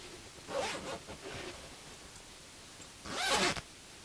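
A zipper on a newly sewn sofa cushion cover, made for a second-hand designer sofa, is pulled in two brisk rasping strokes separated by a pause, close and alone with no voices.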